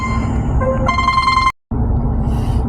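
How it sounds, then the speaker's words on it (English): A telephone rings loudly and close by with steady tonal electronic chimes that shift pitch partway through, then cut off abruptly before a low background hum returns. "Had a phone call."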